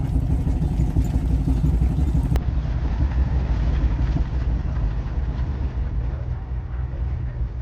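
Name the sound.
passenger train picking up speed on rails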